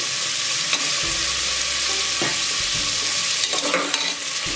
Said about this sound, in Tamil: இது எல்லாத்தையும் கொஞ்சம் ஒரு 2 நிமிஷம் நல்லா வதக்கிட்டு தக்காளி சேர்த்துக்கலாம்.